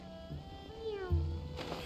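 Cat meowing in Genshin Impact, a short faint meow rising then falling, followed by a brief low thump amid quiet game sounds.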